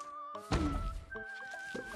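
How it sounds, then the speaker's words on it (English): Coconut cannon firing in the video game Plants vs Zombies 2, a single heavy booming thunk with a falling tone, set among tinkling game music and small effects. "coconut cannon will carry."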